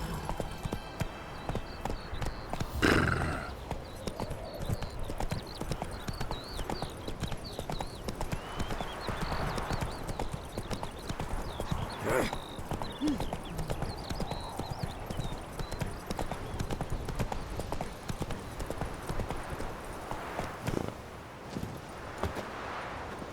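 In a video game, the horse Roach trots along with steady, rhythmic hoof clip-clops on the ground, a faint whinny and soft background voices occasionally mixing in.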